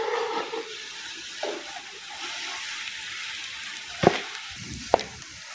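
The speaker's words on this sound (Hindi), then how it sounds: "तो ये देखिए जी हमारे प्याज फ्राई हो चुके हैं, अब इनको जी हम निकाल लेते हैं।" Onions fry in oil in a pan for chicken biryani, giving a continuous soft sizzle with a couple of sharp utensil clinks near the end.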